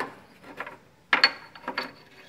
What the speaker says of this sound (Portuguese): Monta a extensão com o cabo.